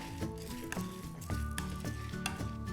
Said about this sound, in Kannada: ಒಣ ಮೆಣಸಿನ್ಕಾಯಿ ಬೇಳೆ ಕಂದು ಬಣ್ಣ ಬರೋವರೆಗೂ ಹುರ್ಕೊಳ್ಬೇಕಾಗುತ್ತೆ